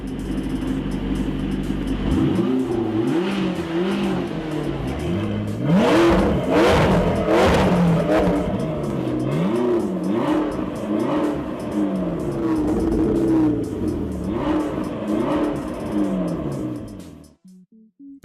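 A Chevrolet LSX 454R engine, rated at 727 horsepower at 7,200 RPM, revving hard and repeatedly, with loud rising and falling surges that stay close and continuous before cutting off at the end.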